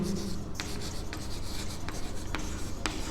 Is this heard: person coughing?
no